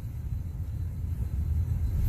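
A 2000 Honda Accord engine, one with a misfire and negative fuel trims, revs gently off idle, giving a steady low rumble that builds slightly toward the end with no voices present.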